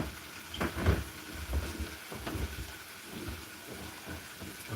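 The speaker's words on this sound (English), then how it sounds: "Make some good bacon, starting to sizzle up right." Bacon sizzles in a pan at breakfast, a soft, steady crackling hiss with scattered small pops, fairly quiet and without talk.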